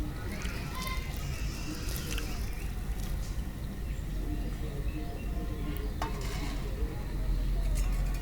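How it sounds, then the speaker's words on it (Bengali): Sugar stirred in a pan while making chushi pitha, with continuous scraping and rustling of a spoon against the pan and occasional light clinks, plus a low sizzle, steady and close. "চিনিটা দিয়ে ভালোভাবে নেড়েচেড়ে মিশিয়ে নিতে হবে, যেন নিচে লেগে না যায়"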